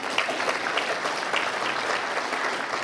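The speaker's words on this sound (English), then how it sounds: "Please give yourself a round of applause." A congregation at a community church service breaks into sustained, even applause, a dense roomful of clapping lasting a few seconds with no voices on top.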